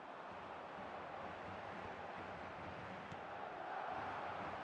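A stadium crowd in the eFootball video game makes a steady, broad roar of cheering throughout, with no commentary or talking over it.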